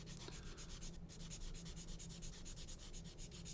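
A Tamiya sanding sponge strip, mounted on a coffee stirrer, is rubbed over a plastic scale-model undercarriage leg, making steady close-up scratchy strokes in quick rhythm with no talking.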